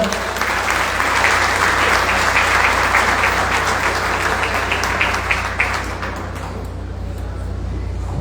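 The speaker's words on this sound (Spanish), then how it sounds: "Un aplauso para el licenciado." An audience in a hall gives sustained, dense applause at a book presentation, loud and steady at first, then thinning slightly toward the end.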